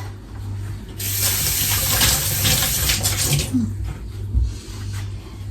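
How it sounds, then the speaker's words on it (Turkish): Rice being rinsed under a running kitchen tap, a steady close rush of water splashing into a bowl in the sink with faint handling sounds, lasting several seconds without talk. "bir çay bardağı pirinç şöyle de yıkalım"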